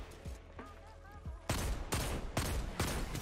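Four loud, sharp hand cannon gunshots in the video game Destiny 2 ring out at a steady pace in the second half, each with a brief echoing tail, after some quieter muffled sounds.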